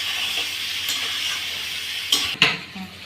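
Soybean chunks and potato curry sizzle as they are sautéed and stirred in a pan, a steady close fry broken by two sharp clinks of a utensil against the pan near the end.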